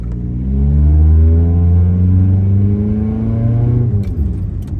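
A Toyota Corolla DX engine revs up under way, a loud close mid-pitched drone climbing steadily through gears for several seconds, then dropping as the engine eases off, with a brief rattle near the end.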